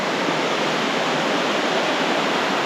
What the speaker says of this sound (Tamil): இதுதான் செகண்ட் ஃபால்ஸ்